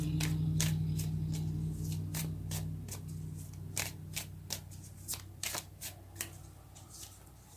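Tarot cards being shuffled and drawn, a low rumble of handling giving way to a run of sharp, separate card snaps and flicks close by.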